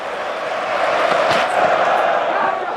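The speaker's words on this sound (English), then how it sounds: "Crowd's up again." Spectators at the Oval during the England v Australia 2023 Test send up a broad roar of cheering and rising noise as the bowler runs in, filling the whole stretch with a loud, sustained crowd swell.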